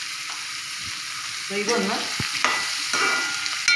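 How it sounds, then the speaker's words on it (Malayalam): Green chilli and coriander powder sautéing in a pan, a steady close sizzle with scraping stirs of a utensil, while a voice speaks briefly over it. "പച്ചമുളം മാറുന്ന വരെ നമുക്കൊന്ന് വഴറ്റാം"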